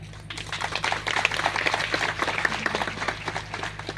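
An audience at a Hindu religious discourse (Bhagwat Katha) applauds steadily, a dense, fairly close wash of many hands clapping that lasts throughout with no talk over it.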